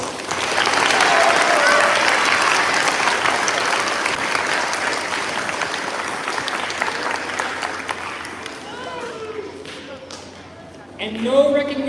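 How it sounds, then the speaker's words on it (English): A crowd's loud applause at the Maine Teacher of the Year announcement swells, then gradually thins and fades, with amplified speech rising as the clapping dies away. "Let's give one more clap, folks."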